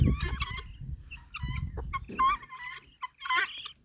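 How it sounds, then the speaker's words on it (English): Nearby guinea hens give harsh, repeated chattering calls in short uneven bursts from atop a canoe, with some low rustling underneath and no talking. "I got about 5 guinea hens on top of the canoe, looking around, chatting"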